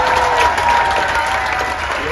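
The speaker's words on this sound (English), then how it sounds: "please give them a big round of applause" An audience at a cruise ship show claps in a steady, dense wash of applause from a sizeable crowd, loud and close throughout with no pause.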